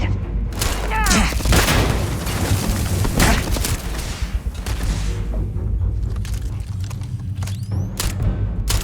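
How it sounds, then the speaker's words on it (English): Grenade blasts and gunfire in the video game Starfield: booming explosions and rapid shots crowd the first seconds, followed by continued combat rumble with a voice shouting over it. "Throwing a grenade!"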